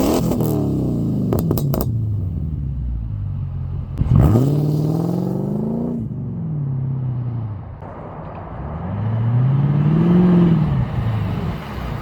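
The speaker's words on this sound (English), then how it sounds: "The throttle response is different. It cracks and popples." A Mercedes CLK 500 V8 with an ECU tune revs hard in several loud bursts, each sweep rising and falling, with crackles and pops on the overrun between revs, heard up close with no talking.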